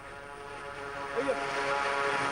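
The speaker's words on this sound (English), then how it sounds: "The Dakota DC-3 is one of 2 planes which ferries in supplies every day to Nasser." A Dakota DC-3 propeller plane ferrying supplies in southern Sudan flies overhead, giving a steady, broad engine drone that stays fairly constant with a slight swell midway.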